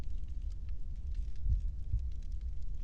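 Soft, low heartbeat thumps pulse faintly beneath a dark ambient drone in The Longest Journey, set near tunnels reaching down into the earth, with a couple of stronger beats standing out.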